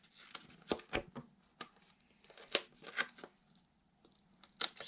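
Scissors snip through overlapping card stock on a handmade luxury Christmas card, a quick series of close, crisp cuts and paper crackles with short pauses between them.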